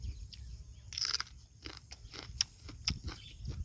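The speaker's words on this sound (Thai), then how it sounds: "กรอบกรอบเดี๋ยวกินให้พี่น้องเขาเบิ่งครับ มันกรอบอีหลีครับนี่" Crunchy raw pods of a white heirloom cowpea variety being bitten and chewed close up, with several sharp crisp crunches scattered over a few seconds against a quiet background, no talking.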